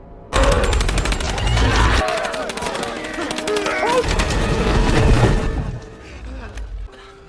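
Rapid bursts of rifle gunfire crack through a jungle battle scene in a film, loud and sustained volleys with shattering impacts and booms, stopping briefly mid-way before resuming, with voices faintly mixed under the shooting.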